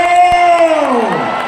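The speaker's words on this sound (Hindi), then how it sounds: "जोरदार ताली बजा करके धन्यवाद दो भैया" Large crowd cheering loudly at a religious gathering in Bihar, a sustained roar of voices with whoops rising and slowly falling away over a second and a half, no clapping clearly separated from the shouting.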